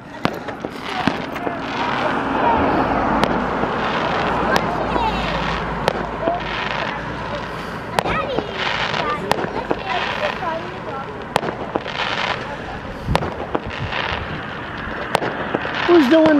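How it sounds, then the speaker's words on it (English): Fireworks exploding outdoors with repeated sharp cracks and bangs at irregular intervals, over a noisy backdrop where people talk throughout. "Who's doing the fireworks anyway?"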